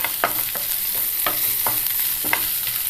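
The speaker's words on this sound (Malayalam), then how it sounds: "ആ കറിവേപ്പിലയും ഈ എണ്ണയിൽ കിടന്ന് തന്നെ ഒന്ന് മൂത്ത് വരണം." Onions, green chillies, ginger, garlic and curry leaves sauté in hot oil for a potato masala curry, giving a steady close sizzle broken by a few sharp stirring scrapes of a spoon against the pan, with no voices.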